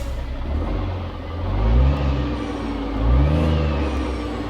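In American Truck Simulator, a Cummins Big Cam engine in a W900 truck runs with a deep, steady rumble that swells twice into revving surges, heard loud and close with no talking.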